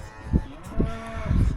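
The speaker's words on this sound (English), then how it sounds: "We got the cows over there in the loafing shed." Cows mooing in a loafing shed on a farm, three low drawn-out moos at moderate distance over a faint background rumble.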